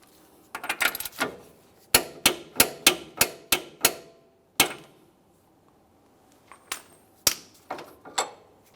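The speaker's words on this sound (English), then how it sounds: "We'll start turning this clockwise, torquing it to 129 foot-pounds" A torque wrench tightens a front axle nut on a 2008-2017 Mitsubishi Lancer, giving a run of sharp, evenly spaced ratchet clicks, then a pause and a few more scattered clicks, close and loud with no talk.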